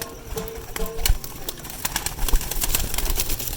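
Pigeons in a fancier's loft from Faisalabad give soft, low cooing amid scattered wing flutters and sharp clicks, close by and fairly steady, with no talking.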